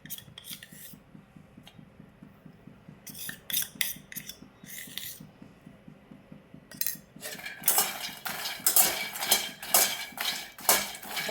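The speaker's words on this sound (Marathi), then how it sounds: "परत 2 मिनिटं असं रोस्ट करून घेऊया।" Makhana roasting in a pan with ghee and a chili-turmeric mix, giving a steady low rhythmic scraping that turns into louder, busier metallic stirring and rattling of the puffed seeds against the pan.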